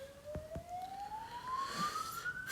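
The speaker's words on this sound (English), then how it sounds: "Ambulance going off." A distant ambulance siren wails in a steadily rising tone, faint at first and a little louder toward the end, with two brief knocks near the start and no speech.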